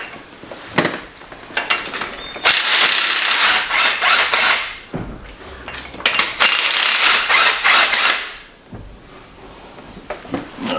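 A ratchet wrench loosening 15mm bolts on a Camaro engine during a rebuild, with loud close bursts of rapid clicking separated by clanks and brief pauses.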